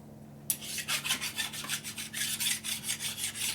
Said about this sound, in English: Give me a deburring file.